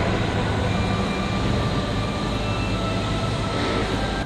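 A train arriving at a station in Vietnam produces a loud, steady rumble with a broad wash of rolling noise and faint high tones, constant from start to finish with no voices.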